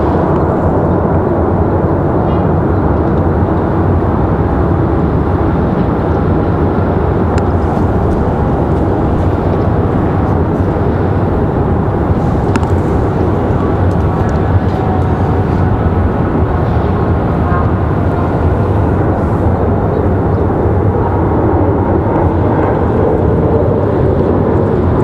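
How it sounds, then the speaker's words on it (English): An American Airlines Boeing 737 departs Raleigh-Durham International Airport, giving a steady, continuous jet roar that holds at an even loudness for the whole stretch, with no talk. "Got an American 737 heading out there at the top of your screen."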